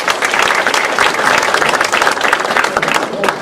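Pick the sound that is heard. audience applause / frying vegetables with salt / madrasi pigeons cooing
audience applause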